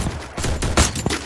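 A quick burst of Free Fire tournament gunfire, several loud, sharp shots spread over a second or so, with no voices heard.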